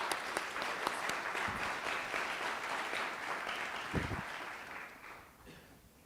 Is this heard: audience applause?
yes